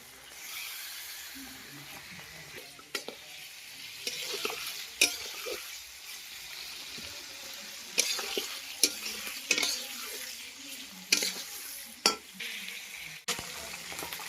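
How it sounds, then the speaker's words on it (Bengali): Chicken pieces for a home-cooked chicken curry sizzle as they fry a second time in a pan, a steady crackling hiss broken by repeated sharp scrapes and clinks of stirring throughout. "আরেকবার ভেজে নিচ্ছে, বাকিগুলো এবার ভেজে নেবো আরেকবার।"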